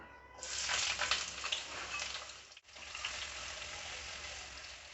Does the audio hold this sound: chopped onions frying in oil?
yes